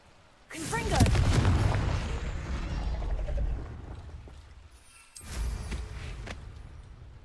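A Confringo blasting spell in Hogwarts Legacy goes off as a loud, booming explosion that rumbles for a few seconds and fades, followed by a second, somewhat quieter blast.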